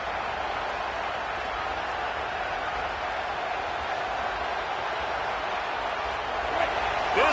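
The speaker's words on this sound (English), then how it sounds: "This crowd bringing the energy and noise early." A broad, steady wash of crowd roar from a packed stadium in a college football video game, constant throughout with a slight swell at the end.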